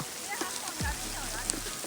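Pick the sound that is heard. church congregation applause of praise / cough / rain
rain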